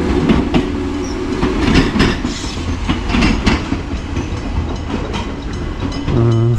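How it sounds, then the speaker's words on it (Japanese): A Gakunan Railway local electric train runs along the rails with rhythmic clickety-clack from the wheels over rail joints, loud and close, with rumbling and a brief squeal at the end. "不思議な電車という感じだな"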